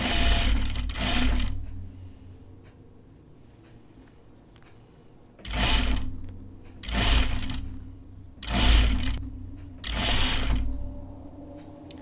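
A sewing machine stitches the final seam of a Cheyenne tunic in several loud bursts of rapid whirring, separated by short pauses, close by with no talk.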